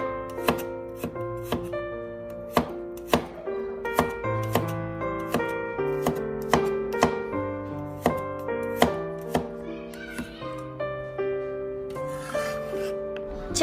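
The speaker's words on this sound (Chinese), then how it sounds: "将大蒜切成粒。" A knife chops five garlic cloves into small pieces on a board, a long series of sharp, close taps in an uneven rhythm over quiet background music.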